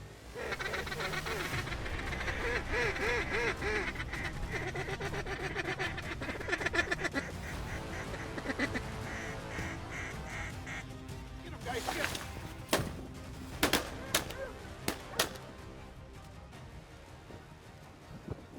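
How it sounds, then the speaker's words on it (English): Ducks, including pintail hens, quack repeatedly amid steady outdoor background noise and people talking in a flooded wheat field during a duck hunt in North Dakota, with several sharp, loud gunshot bangs near the end. "Look at all these ducks over here to our right here."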